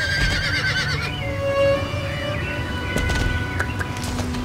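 A horse whinnies in the video game Star Stable, a loud, close neigh with wavering pitch lasting about a second, followed by faint hoof clip-clops and ambient game sounds.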